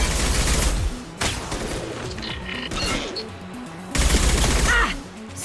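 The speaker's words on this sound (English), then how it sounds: "Stop shooting me!" Heavy bursts of automatic gunfire in the Mass Effect 2 shooter, loud and close, arriving in three or four sustained volleys separated by brief lulls with faint electronic effects between them.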